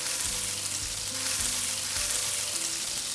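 Fish sizzling in a pan of lemon butter sauce, a dense, even frying hiss that stays steady and close throughout, with faint low bubbling underneath and no voices.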